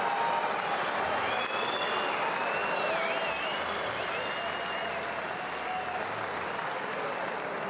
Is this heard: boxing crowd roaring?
yes